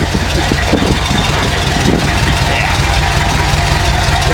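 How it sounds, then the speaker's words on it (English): A 1982 Chevy K-30 4x4 dually truck idles close to its exhaust, giving a steady, loud, low rumbling drone that stays even throughout. "There you are, you can hear it rumbling."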